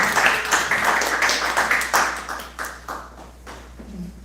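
A church youth group claps for a birthday member called to the front, with a dense, sustained burst of hand claps that gradually thins out over a few seconds, filling the room without talk.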